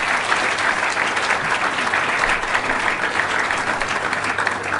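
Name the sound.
audience applause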